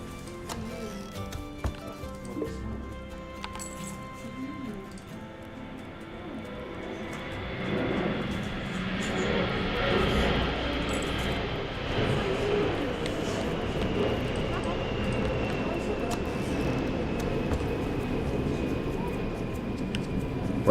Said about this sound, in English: One thing I cannot control is the planes.